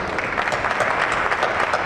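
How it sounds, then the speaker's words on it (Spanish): Steady applause fills a conference hall at the FAGENAUTO meeting at the Motortec trade fair, a dense, even clatter of many hands clapping for the whole stretch, with no speech over it. "Así que para todos ellos os pido un aplauso."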